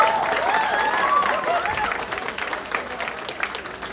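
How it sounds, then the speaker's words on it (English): An audience at a school farewell for the 2022 batch claps for the school, a loud burst of applause that swells at first and then slowly thins out, with some voices mixed in. "can we have a round of applause for your beautiful Amity?"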